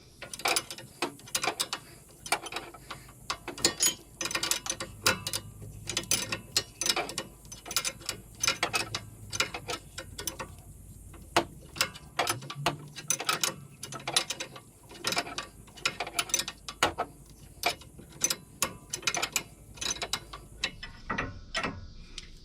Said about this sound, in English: You might want to make sure when you're doing this to try to use a wrench that's fairly thin, like this one here.